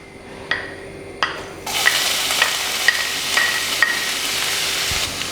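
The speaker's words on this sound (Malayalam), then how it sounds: "അപ്പോൾ ഇത് നന്നായിട്ടൊന്ന് ഇളക്കി കൊടുത്തിട്ടുണ്ട്." Crushed onions sauté in the pan just used for frying dried shrimp. A couple of spoon knocks come first, then a loud, close sizzle swells up and continues under repeated stirring clicks and scrapes, with no voices.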